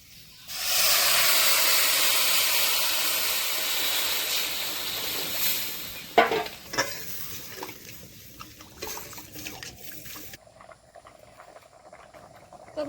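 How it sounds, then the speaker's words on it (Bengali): Water poured into a pan of fried spices and potatoes for katla kalia fish curry, a sudden loud hissing sizzle that settles into bubbling and fades, with a few clanks of utensils. "মশলা আর আলু ভাজা হয়ে গেছে। এখন জল দিয়ে দিচ্ছি।"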